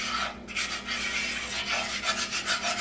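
A spoon scrapes steadily around a pot of roux for gumbo, a continuous rasping rub with repeated strokes, close and fairly loud with no talking.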